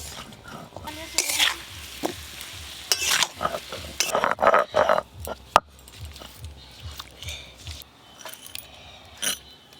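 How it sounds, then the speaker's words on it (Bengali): Potatoes and garlic fry in hot oil in a pan, a continuous sizzle broken by repeated scraping stirs of a spatula and clinks against the pan, close and fairly loud. "রসুন, লাল লাল করে আলুগুলো খুব ভেজে নিয়েছি, এবার তুলে নেব।"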